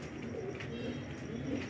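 Domestic pigeons cooing softly, low throaty burbling calls repeating under a faint steady background hum, fairly distant and quiet.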